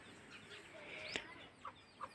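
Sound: chickens clucking

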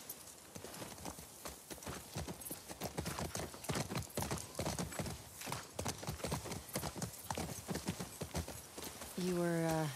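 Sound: horse hooves in video game The Last of Us Part II

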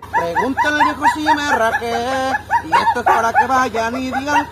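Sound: dog barking

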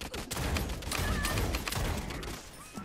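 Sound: gunfire in the video game Realm Royale

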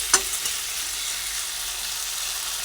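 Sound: potato and pumpkin frying with spices

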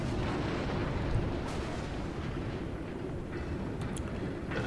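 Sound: battleship artillery fire in World of Warships video game

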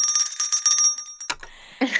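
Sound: hand bell ringing for a correct answer

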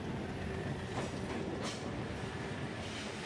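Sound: Rovos Rail train hauled uphill by twin-engine diesel locomotive

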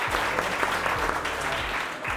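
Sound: applause

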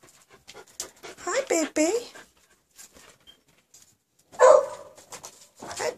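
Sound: puppies panting and whimpering

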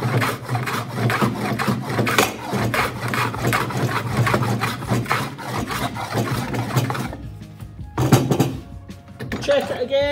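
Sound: rebate plane cutting a rebate in wood

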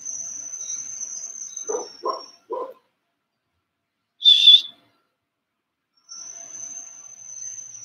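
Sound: dog barking at delivery person

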